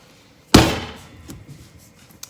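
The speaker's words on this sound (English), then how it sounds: "Have to bang on your counter." A spaghetti squash is slammed once onto a kitchen counter, a sharp, loud thunk. Its ring fades quickly, and a couple of faint knocks follow.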